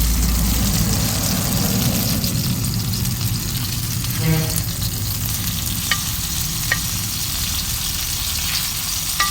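Chicken kebab pieces frying in a pan, with a steady close sizzle and crackle, brief stirring and scraping as they are turned over, and a low hum underneath.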